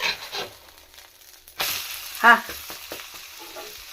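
A dosa sizzles softly in a covered pan, with a quiet frying hiss, a lid or utensil clatter and a brief clink partway through, heard close up with no talking.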